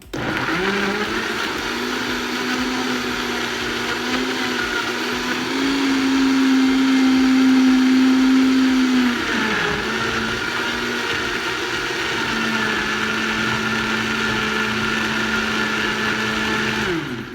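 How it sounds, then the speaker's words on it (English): A blender runs steadily and loudly, making a green protein smoothie, with a high whirring motor whine, its pitch shifting briefly midway before settling again. "And now I'm just gonna let the blender do the work."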